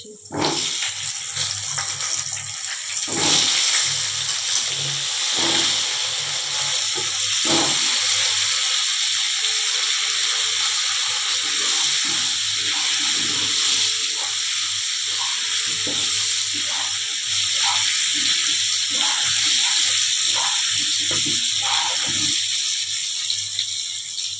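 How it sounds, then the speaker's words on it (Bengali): Pointed gourd sizzles steadily in oil in a pan while a spatula scrapes and taps now and then, close and continuous throughout. "ওই তেলের মধ্যে পটলটা ভেজে নিচ্ছি"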